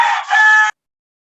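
A rooster crows once, a loud, close, strained call with a brief dip partway through before breaking off abruptly into silence.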